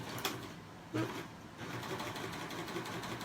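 A serger stitches a chain stitch around fishing line for jewelry making, a soft steady mechanical whir with a few small clicks and bumps, fairly quiet and close.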